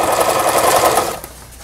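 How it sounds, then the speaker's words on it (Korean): A repaired Elna 1010 home sewing machine stitches in a fast, steady mechanical whir with a rapid needle rhythm, loud and close, then slows and quiets near the end. "엘라 재봉틀의 1010이라는 제품 수리를 모두 마치고 박음질하는 영상을 보여드렸습니다"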